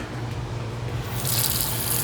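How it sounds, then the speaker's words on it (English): A studio sink tap runs, a steady rushing stream of water that grows louder and brighter partway through, close by with no talk. "Running water, how fancy."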